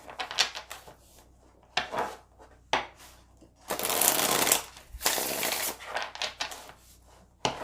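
Tarot cards are shuffled upside down by hand in quick, close riffling bursts and soft slaps, with a longer, denser shuffle in the middle.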